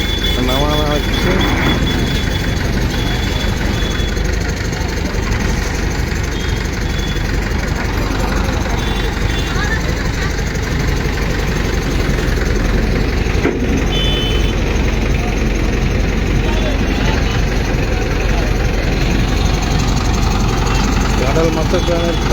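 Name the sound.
two cranes with heavy engines unloading a dredging vessel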